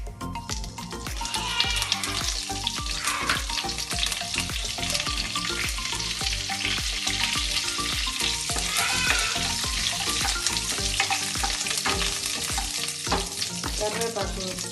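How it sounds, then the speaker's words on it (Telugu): Curry leaves crackle loudly in hot oil for a Nellore-style fish curry, a dense close sizzle broken by rhythmic scraping strokes of stirring throughout. "అవి కాస్త వేగిన తర్వాత కరివేపాకు,"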